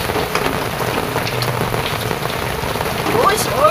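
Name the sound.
heavy rain falling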